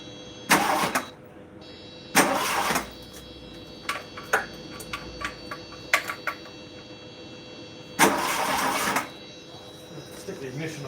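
A car's starter cranks the engine in three long, loud bursts, with shorter clicks and rattles in between, close by in a quiet garage-like space.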